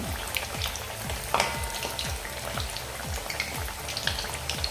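Palak vadi spinach fritters fry crisply in oil over a medium-low flame, a steady close crackle with frequent small bubbling pops and occasional sharper spits, with nobody talking.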